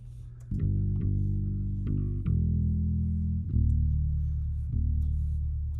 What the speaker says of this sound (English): this is what the bass sounds like without any plugins on it